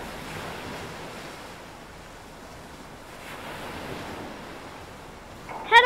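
Ocean waves and surf wash steadily in a shipwreck game after a character falls overboard from the sinking Britannic, a continuous wind-like roar ending in a sudden louder splash.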